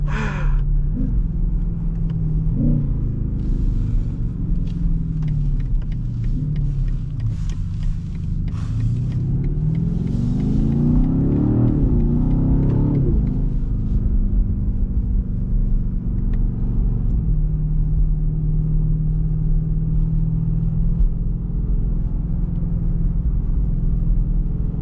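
A 2026 BMW XM super SUV accelerating hard, heard from inside as a low, steady rumble whose engine note climbs through the revs and then drops back, continuous and without talking.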